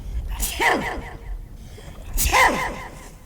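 A voice imitates a pig's sneeze twice, two explosive, breathy bursts about two seconds apart, close and fairly loud.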